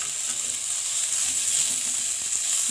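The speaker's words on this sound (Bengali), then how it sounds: "এরকম লাল লালভাবে আলুটা আর বেগুনটা একটু নেড়ে নেবেন।" Potato and eggplant pieces fry in a pan with a steady bright sizzle of hot oil, stirred gently with faint scrapes underneath.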